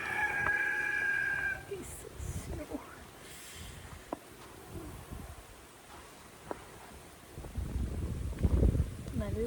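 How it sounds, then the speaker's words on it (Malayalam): A chicken crows outdoors in falling snow, a brief call near the start heard from a distance, followed by gusty wind noise and people talking. "നമ്മളുടെ അവിടെ കോഴിയുണ്ട്"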